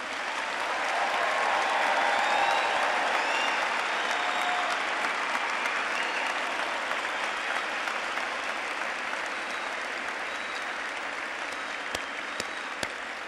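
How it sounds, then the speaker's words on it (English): Audience applause for graduates at a university winter commencement ceremony, a large crowd clapping in a broad, steady roar that holds evenly throughout, heard from the hall at moderate distance. "I ask everyone to join me in a round of applause to celebrate their achievement"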